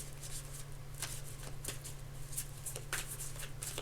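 Tarot cards are shuffled in quick, soft riffling bursts, close and fairly quiet, with no speech.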